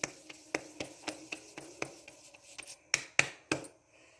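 Hands kneading and patting corn flour dough for makki ki roti: soft, faint rubbing with a steady series of light slaps and pats, close up, a little louder and sharper toward the end, with no talk.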